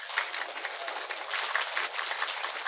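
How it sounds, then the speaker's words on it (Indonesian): A crowd at an Islamic religious gathering claps steadily and densely for a few seconds, a continuous wash of applause with no voices standing out. "Tepuk tangan untuk Pak Polisi."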